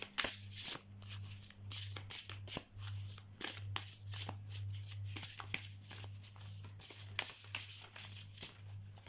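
Oracle cards are shuffled by hand in quick, repeated riffles and slaps, close and fairly quiet, with a faint low hum running underneath.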